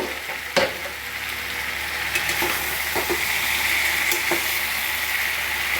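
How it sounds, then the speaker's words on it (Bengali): Vegetables stirred in a pan on the stove, a soft continuous sizzle with scattered scraping clicks of the spoon against the pan, fairly close and alone without talk. "এবার আমি ঢাকনাটা খুলে একটু নেড়ে চেড়ে নেব"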